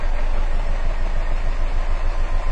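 A Subaru engine with a misfire idles close by, a steady low rumble with a rough, uneven undertone that never lets up, with no voices over it.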